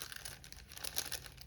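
A glassine envelope holding small bits is handled in a tall handmade journal, giving soft, close, continuous crinkling and papery rustling with no voices.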